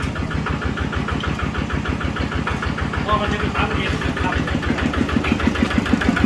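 Small ride-on farm tractor engine running steadily at idle with a fast, even chugging pulse, close and loud throughout, with people talking over it.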